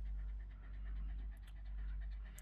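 A dog pants rapidly and close by, a steady run of breathy huffs with a low rumble underneath and no talking.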